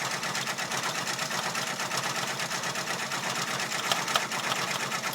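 An embroidery machine stitches a hat at 500 stitches per minute, a steady rapid mechanical chatter that runs loud and unbroken from start to finish, with no talking.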